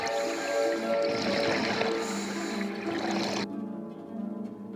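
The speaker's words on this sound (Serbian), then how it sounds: "jedini zvuk koji se čuje je ujednačeni zvuk disanja i mehurići vazduha koji beže ka površini" A scuba diver breathes steadily underwater on a Caribbean shark dive, with a loud, dense rush of exhaled air bubbles that cuts off abruptly near the end, leaving a quieter hiss.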